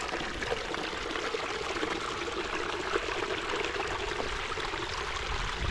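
Clear spring water from a mountain trail near falls runs in a steady, full rushing flow, constant and close, with no voices.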